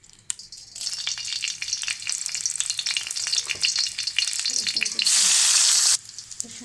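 Garlic and dried red chilli fry in hot oil in a karahi, giving a loud, continuous close sizzle with a brief harsher hissing surge near the end before it settles back.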